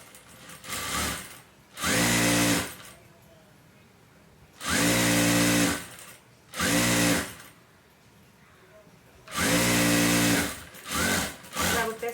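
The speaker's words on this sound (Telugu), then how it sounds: "దీనికి మామూలుగా మిషన్ మీద కుట్టేయండి." A sewing machine stitches a waist belt in four or five loud, steady bursts of a couple of seconds each, with quiet pauses and faint handling noise between runs.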